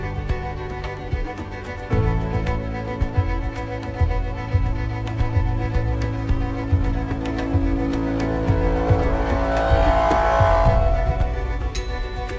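A car drives off, its engine starting up and rising into a steady rumble that grows as it pulls away, heard alone without any talk.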